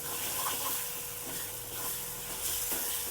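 Roasted eggplant being stirred into the gravy in a pan, a steady sizzle with soft wet scraping and stirring, close and continuous, with no talk.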